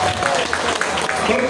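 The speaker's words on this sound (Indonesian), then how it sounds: "Boleh tepuk tangan buat kita semua." An audience at a teachers' association halal bihalal gathering applauds, a steady wash of clapping from many hands throughout.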